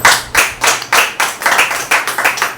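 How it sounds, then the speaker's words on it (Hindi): A church congregation at a Wednesday service claps loudly in about nine strong, evenly spaced bursts, a close and rhythmic unison clapping with no talk. "मसीह की एक जोरदार ताली बजाइए।"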